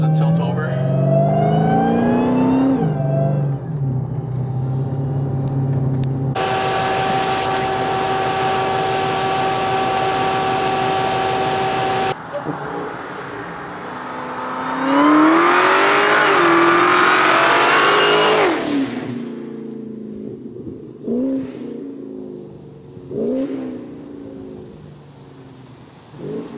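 A Chrysler 300 Redeye accelerates past in a flyby, engine roar climbing and swelling loudly as it nears, then fading, with a steady tonal whine in between and brief revs afterward.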